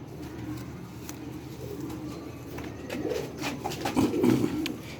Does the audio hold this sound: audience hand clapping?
no